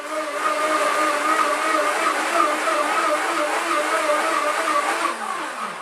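A steady, loud motor whir runs for the whole stretch, with harmonic tones and slight shifts in pitch, as a blender churns apples with a little apple juice.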